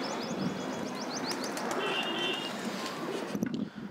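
A pigeon coos softly amid a busy outdoor backdrop, with repeated chirping bird calls high above and steady ambient noise, faint and somewhat distant.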